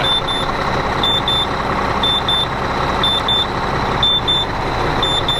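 An old 2000 Volvo semi truck engine runs steadily at idle, a constant low rumble throughout, with repeated high electronic beeps in short pairs over it.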